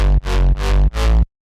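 A synth bass patch driven through saturator distortion plays three loud, gritty sustained notes separated by short gaps, rich and buzzy with crunchy upper harmonics, then cuts to silence.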